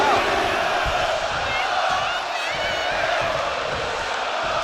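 An arena crowd in the WWE 2K25 wrestling video game roars and cheers loudly and continuously, a dense near wash of voices with occasional low thumps, staying even in level throughout.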